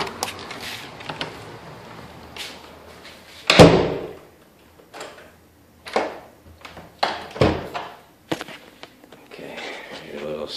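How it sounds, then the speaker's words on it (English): Newly installed back door of a rental house opening and closing, with a loud thud near the middle and a second sharp bang later, amid quieter handling knocks and footsteps. "Brand new door on the back of the house."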